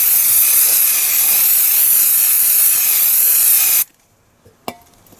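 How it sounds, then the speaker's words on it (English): An aerosol can of brake parts cleaner sprays onto a car flywheel, a loud, close, steady hiss lasting nearly four seconds before stopping sharply, followed by a brief clink. "Give that a good spray."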